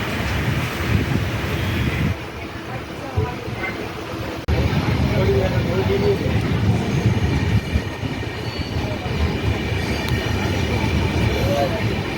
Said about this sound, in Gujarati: મિત્રો જો અત્યારે ટ્રેન શરૂ થઈ ગઈ છે